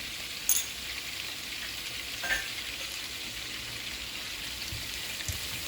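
Garlic frying over medium heat in a pan alongside browned meat, a steady close sizzle with faint crackles and a couple of brief utensil taps, no voices.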